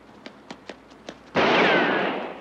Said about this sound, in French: Très discret le petit coup de feu la nuit dans New York.